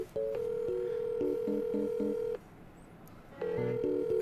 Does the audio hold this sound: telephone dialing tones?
yes